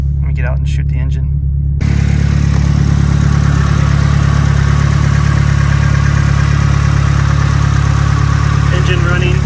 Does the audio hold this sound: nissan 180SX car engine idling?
yes